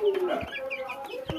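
Chickens cluck on a farm that also keeps quail, with short, fairly close calls repeating over steady ambient noise and no speech.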